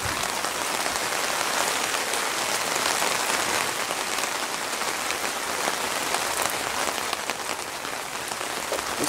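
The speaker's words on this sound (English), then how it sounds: "Rain's icy cold" Steady, heavy, icy-cold rain of a thunderstorm pours down continuously over Birmingham, England, a dense hiss of drops striking hard surfaces with no pauses or voices.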